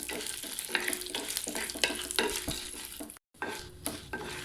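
Deseeded dried red chillies sauté in hot oil for a Kongu-style Pallipalayam chicken fry, crackling under a rhythmic series of spatula scrapes and stirs, broken by a brief silence.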